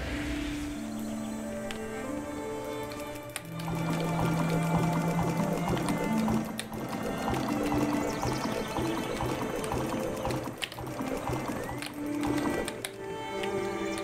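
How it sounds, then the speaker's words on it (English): Watering crops in World of Warcraft: Pandaria Remix, a continuous pouring-water effect layered over tonal game music, steady and fairly loud throughout. "Now water my red leaf lettuce."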